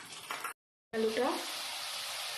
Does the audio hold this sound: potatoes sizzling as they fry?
yes